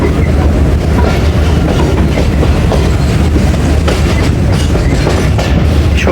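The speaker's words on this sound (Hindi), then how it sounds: "हमारी ट्रेन जा रही है जी लूप लाइन पे" Awam Express passenger train rolling along the loop line near a small station, a loud, steady rumble of wheels on rail with faint clickety-clack throughout, heard from inside the coach.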